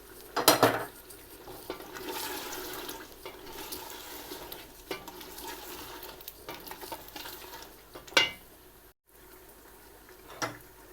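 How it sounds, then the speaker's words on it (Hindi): Potatoes fry with ground coriander and cumin seeds in a pan, giving a soft, steady sizzle with scraping stirs and a few louder clatters of the spoon against the pot. "आलू डाल के इसको 6-7 मिनट के लिए भूनेंगे।"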